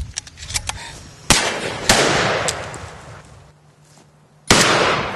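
Computer-made gunshot effects for a film version of Pride & Prejudice with guns: a patter of small pops, then several sharp, loud bangs spaced irregularly, each trailing off into a hissing tail.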